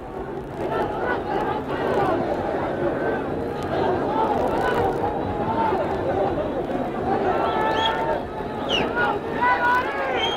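A surging crowd fills Madison Square Garden after a boxing fight, a dense, loud roar of chatter and shouting that carries on without a break, with a few higher whistles or calls rising above it near the end.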